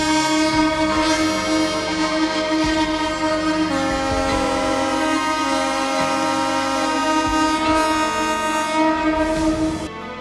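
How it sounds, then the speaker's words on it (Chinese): Taiwan Railway train horns sound together in tribute, a loud sustained chorus of overlapping tones holding steady for about ten seconds, with no talk. "全台50辆火车鸣笛5秒"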